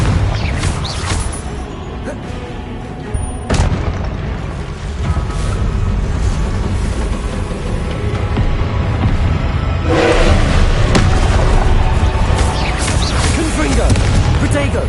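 Confringo blasting spell explosions in the video game Hogwarts Legacy: booming blasts and crashes over continuous game noise, with sharp hits around the start and a louder burst near the end.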